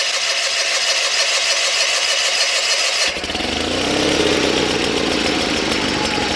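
A Sears Suburban SS16 lawn tractor engine cranks with a rapid rhythmic chug, then catches and settles into a loud, steady running drone close by.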